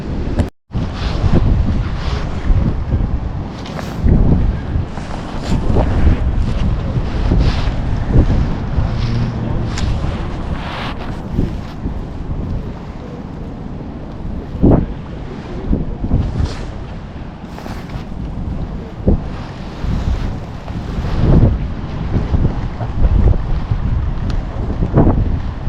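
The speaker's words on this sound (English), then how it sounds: "that wind has picked up and it's absolutely horrendous" Strong gusty wind on a fishing pier in Dublin, buffeting the microphone with loud rumbling roars that surge and ease over the whole stretch, with a little background sea.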